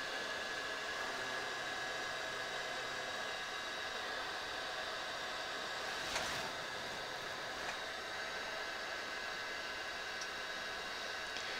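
A heat gun blows steadily and loudly while shrinking heat-shrink insulation over mains wiring connections inside a cassette deck, giving an unbroken airy roar with a faint whine and a brief bump midway.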